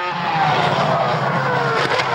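A Formula 1 race car engine screams at high revs, a loud, continuous high-pitched whine with a slight falling sweep as it passes, heard alone and close.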